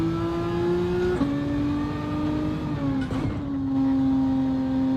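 Gr.4 race car in Gran Turismo 7 holding a steady, loud engine note that climbs and drops through gear changes, with a sustained harmonic whine and no talk over it.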